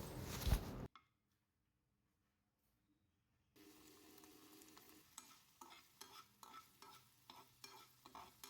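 Chopped onion and tomato stirred in a hot pan, giving a steady low sizzle broken by a run of rhythmic scraping strokes after a brief loud burst and a few seconds of near silence.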